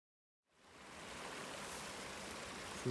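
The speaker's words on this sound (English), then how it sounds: "this creek actually goes up because it's fed from what I think is an old reservoir" Water rushing in a mountain creek fed from an old reservoir, a steady broadband hiss fading in after half a second and holding constant, close and continuous with no voices.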